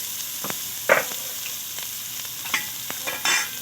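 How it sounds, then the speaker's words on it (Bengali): Peanuts and finely chopped carrot frying in well-heated oil, a constant close sizzle punctuated by several sharp stirring scrapes and crackling bursts at uneven intervals. "তেল খুব ভালো করে গরম হয়ে গেছে, দিয়ে দেব বাদাম, আর দিয়ে দিচ্ছি গাজর কুচি ছোট ছোট করে কেটে রাখা"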